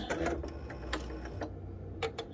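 A sewing machine set to a 2.4 stitch length runs slowly while stitching piping cord, making faint, soft ticking stitches that pause midway, followed by a couple of light clicks.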